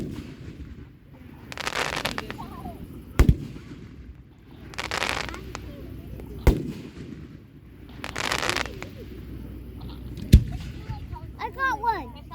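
Fireworks burst over Plainfield, Connecticut, in a series of loud booming explosions spaced a couple of seconds apart, each with crackling tails, while people talk and react nearby.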